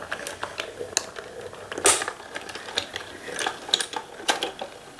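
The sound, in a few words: Gemini Mini die-cutting machine running a die through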